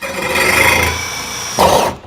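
A power drill spins a hole saw cutter into a black plastic German IBC tank, a steady close whirring grind that swells in the middle, with a sharper burst of cutting noise near the end.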